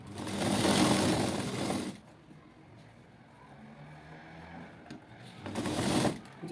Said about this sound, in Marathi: सरळ बाजू करून आपण 1/2 इंच मार्जिन धरून शिलाई मारून घ्यायची आहे.